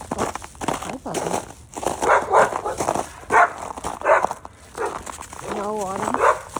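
A dog whimpers and whines in short, rising cries, with people talking nearby over the sounds.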